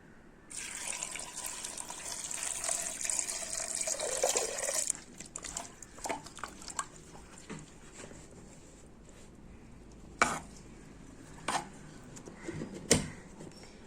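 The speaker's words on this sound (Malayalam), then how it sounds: "ഇനി ഇതിലേക്ക് വെള്ളം ഒഴിക്കാം" Water poured from a vessel into pumpkin curry with green chillies and turmeric, a close trickling splash for a few seconds, then quiet with scattered clinks and drips.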